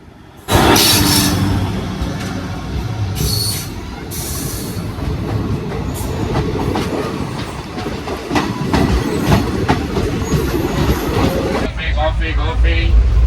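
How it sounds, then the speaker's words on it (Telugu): A train rumbles in loudly, wheels clattering over rail joints with occasional squeals, steady and close throughout, with voices faintly in the background. "రైల్వే స్టేషన్ ఒక ట్రైన్ వస్తుంది చూడండి"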